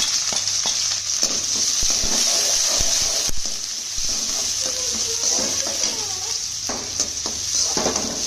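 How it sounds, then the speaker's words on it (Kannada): Onions and green chillies frying in about a cup of hot oil for spicy noodles, a steady loud sizzle with scattered crackles and a few spoon scrapes against the pan throughout. "ಈಗ ಆನಿಯನ್ಸ್ ಚಿಲ್ಲಿ ಹಾಕೊಂಡಿದ್ದೀನಿ."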